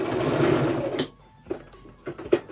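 A sewing machine back stitches on a jacket, a close, loud whirring run for about a second that stops abruptly, followed by a few faint clicks and taps.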